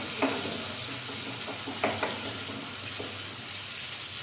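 Hot oil in a home kitchen pan gives a steady, fairly faint sizzling hiss, broken by a few sharp crackles and spatters.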